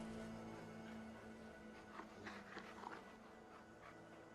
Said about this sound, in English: Dog's nearby.